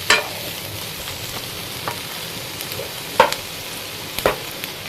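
Green chilli and garlic sizzle in a frying pan, a constant close hiss broken by a few sharp scraping strokes of a spoon as it is stirred.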